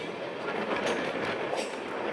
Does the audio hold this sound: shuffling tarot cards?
no